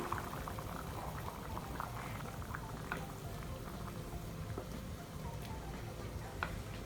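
Chickpea gravy with red chili powder boiling steadily in a pot on the stove, a continuous close bubbling and gurgling simmer with small pops and ticks, no voices.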